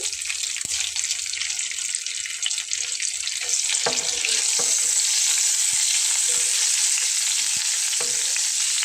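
An egg frying in hot oil with a pinch of salt, a steady loud sizzle that swells and holds, punctuated by a few sharp crackles and pops; no one speaks.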